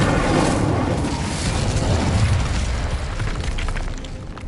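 An Incendio fire spell is cast in Hogwarts Legacy, giving a loud whooshing, bursting blast of flame that rumbles and fades over a few seconds, with no talk.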